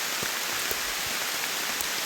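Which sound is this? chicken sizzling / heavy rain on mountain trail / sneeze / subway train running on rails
heavy rain on mountain trail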